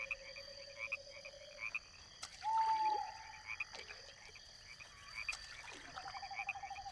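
A frog croaks in a marsh in the game My Sims Agents, a few short, distinct calls over a quiet bed of looping ambient tones and soft chirps.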